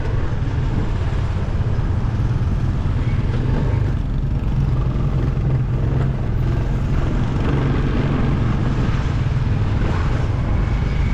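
A motorcycle rides steadily along a road past a bazaar, its engine a constant broadband rumble mixed with wind and road noise, with no clear gear changes.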